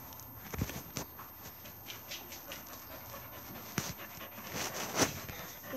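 Dogs, including a black and white sheepdog, pant steadily nearby with soft whimpers, scattered clicks and light pattering footsteps, with no talking.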